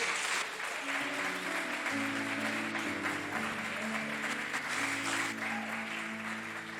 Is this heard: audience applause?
yes